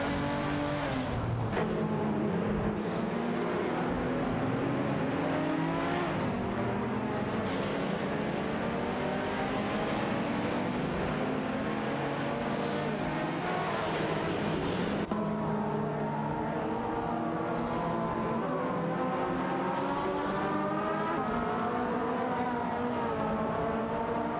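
A Nissan Skyline GT-R R34 and an Acura NSX race in a video game. Loud, continuous engine drone rises and falls through the gears, with cars passing by and brief tire squeals, heard close and without talk.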